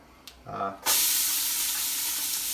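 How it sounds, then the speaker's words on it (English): Onions and garlic hit a hot pan with oil for a quick saute, first a brief clatter as they go in, then a loud, steady broadband sizzle that holds evenly to the end. "We've got our onions there. We've got our garlic going in as well. Give them a quick saute."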